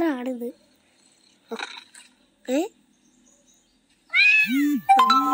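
A cat meows a few times in short, sharp calls, close and clear, with gaps of silence between them, played from Google's 3D animal view.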